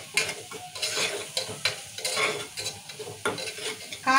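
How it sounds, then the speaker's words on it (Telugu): Chili powder is stirred into a mutton paya curry with a spoon, giving uneven, close scraping and clinking strokes over a light sizzle. "కారం వేసి ఒకసారి ఇట్లా మంచిగా కలగలుపుకోవాలి."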